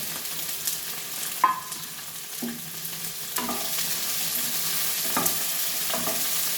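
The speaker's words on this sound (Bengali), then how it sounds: "এটাও ভালো করে ভেজে নেব।" Onion and capsicum fry in a pan with fried potatoes, a close steady sizzle broken by several sharp clanks and scrapes of stirring, no voices.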